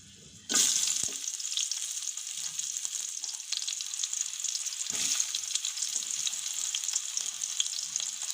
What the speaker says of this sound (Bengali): এখন এগুলি ভালো করে বাদামি কালার করে ভেজে নিব